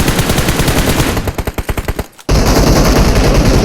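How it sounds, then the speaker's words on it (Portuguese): Loud bursts of rapid automatic gunfire from the mobile game PUBG Mobile fill the clip, with a string of sharp separate shots, a brief drop to near silence, then another sustained volley. "Tem muito tiro."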